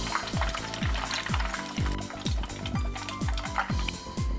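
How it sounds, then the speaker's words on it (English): Prawns deep-frying in hot oil for tempura give a steady close sizzle, broken by a regular series of soft knocks and clinks from the pan, with no talking. "Lastly, deep fry prawns."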